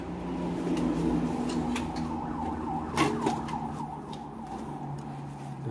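An ambulance siren wails faintly from a roadside near a house, its rising and falling tone distant and partly masked by steady background rumble, with a brief thump midway.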